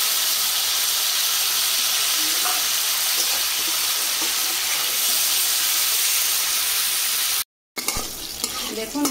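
Bitter gourd sizzles in hot mustard oil, a constant loud hiss and crackle close by, cut by a brief silence near the end before the frying resumes.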